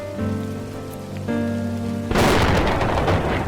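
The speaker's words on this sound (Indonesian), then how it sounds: "Mana hujan lagi." Steady heavy rain bursts in loudly partway through, a broad rushing downpour with a deep thunder-like rumble beneath, following tonal background music in an Indonesian drama scene.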